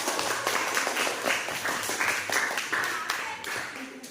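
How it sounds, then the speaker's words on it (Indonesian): A classroom group claps together for a lesson on soil cultivation, a steady run of overlapping handclaps at moderate level, with voices talking over it. "Beri aplaus dulu untuk kita semua."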